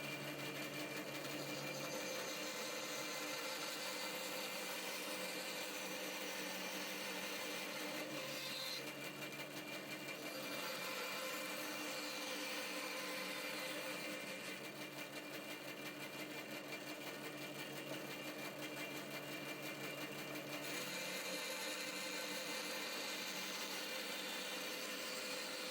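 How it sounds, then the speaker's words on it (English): Bandsaw cutting wood along pen lines for push block handles, a steady faint whine and buzz that runs unbroken, with slight changes in tone as the blade loads into the wood, and no talk. "We're back on the bandsaw,"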